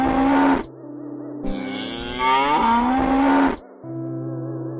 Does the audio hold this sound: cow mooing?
yes